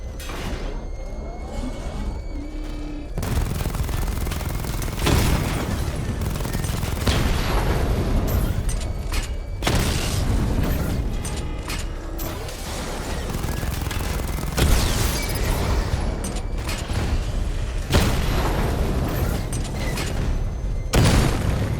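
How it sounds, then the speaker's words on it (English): Missile barrage explosions from Batman: Arkham Knight, a heavy rolling series of deep booms and blasts arriving in several loud waves separated by brief lulls, with mechanical clanks and rumble between them. "Charge up missile barrage to level 2 and destroy 4 active targets to complete diagnostic test."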